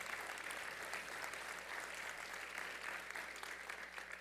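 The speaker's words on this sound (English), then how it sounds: "give yourselves a round of applause" An audience at a community college fall convocation gives a round of applause, a steady, even wash of many hands clapping, heard at a modest distance, with no talk over it.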